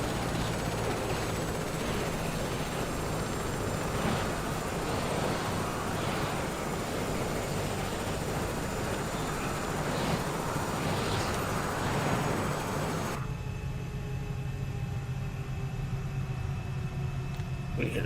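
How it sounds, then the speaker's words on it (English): A small aircraft engine in Flight Simulator 2024 drones with a steady, loud hum, then cuts off abruptly near the end, leaving a quieter, thinner background. "The engine should be shutting down."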